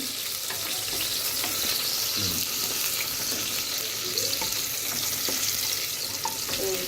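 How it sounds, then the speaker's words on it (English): Beef with onion frying in a pan for curry, a steady, dense sizzle running continuously at moderate loudness with faint clinks now and then. "You fry for till it's gold brown"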